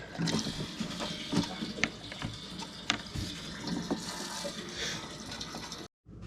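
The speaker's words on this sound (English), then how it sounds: "Let's put some fuel in this thing. Got just a little bit left in this jug." Diesel fuel poured from a jug into an International 4700 truck with a DT466 engine, a steady close gurgling splash of liquid that runs unbroken for about six seconds and then cuts off abruptly.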